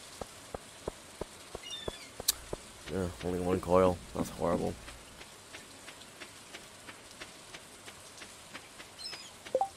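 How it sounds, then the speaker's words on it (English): Rain in the video game Stardew Valley patters as a steady light tapping of drops throughout, with a player talking briefly over it in the middle. "I said it was just gonna be raining."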